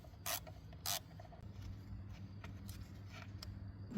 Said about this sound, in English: Next, remove this 10mm nut.